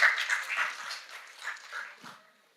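Audience applause at a young CEO program held at a university. The clapping starts strong and dense, then thins out and fades away over about two and a half seconds.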